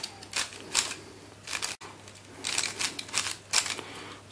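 A transparent Zhanchi speed cube is scrambled by hand, its plastic layers turning in quick bursts of sharp clicks and clacks, close up with brief pauses between the flurries of turns.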